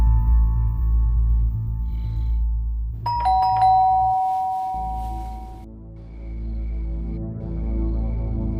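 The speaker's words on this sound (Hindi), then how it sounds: "एकदम से डोरबेल बजी" A doorbell chimes once in a home, a clear bright ding-dong over a steady low hum, ringing out and fading before the room settles back to a quiet drone.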